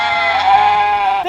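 A voice imitates a sheep with a single sustained, wavering bleat, loud and close, ending with a quick upward inflection.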